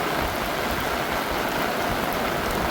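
Heavy monsoon rain pours down in a green Konkan village near Vaibhavwadi, a dense, loud and unbroken hiss of water striking the ground, with no voices over it.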